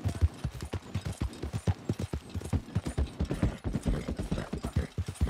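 Horse hooves clip-clop steadily in Red Dead Redemption 2, a close, even trotting rhythm of many sharp hoof strikes on hard ground with faint mechanical jingles mixed in.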